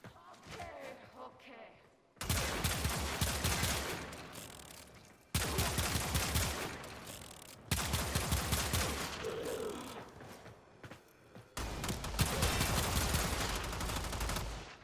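Rapid bursts of gunfire from the Vasto revolver during combat in Warframe, loud and close, arriving in several sustained volleys separated by brief pauses.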